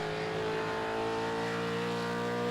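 A V8 Supercar in a racing video game revs hard on track, its steady, loud engine note droning throughout with no voices over it.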